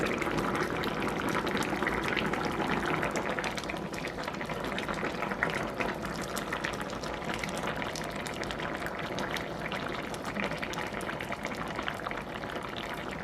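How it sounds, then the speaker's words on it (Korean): Tomato sauce with sliced shiitake mushrooms and minced garlic simmers under a lid in a pot, a steady, close bubbling and hissing that continues evenly throughout with no talking. "뚜껑 닫고 5분간 끓여주면 완성이에요."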